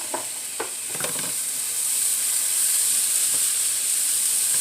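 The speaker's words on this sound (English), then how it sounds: "I'm going to add it to this tofu and let it cook down a little bit so it's not too dry" Chopped tomato and tofu cook down in a pan, opening with a few scraping stirs before settling into a steady, close hissing sizzle.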